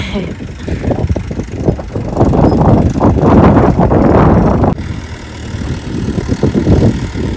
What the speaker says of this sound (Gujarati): ટ્રેક્ટર જો આપણે એકલું હાલે.